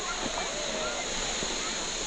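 Wangi Falls in Australia's Northern Territory roars as a steady, dense wash of falling water, constant and fairly loud throughout, with faint voices in the background.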